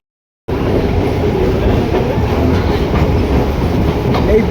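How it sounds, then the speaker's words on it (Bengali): A moving passenger train pulling out of Majerhat station in Kolkata: a steady, loud rumble of wheels and carriages fills the whole span after a brief silent start, with faint rhythmic clatter. "আমাদের ট্রেন ছেড়ে দিয়েছে মাঝেরহাট স্টেশন থেকে"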